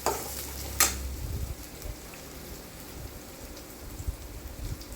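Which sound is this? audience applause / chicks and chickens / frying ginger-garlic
frying ginger-garlic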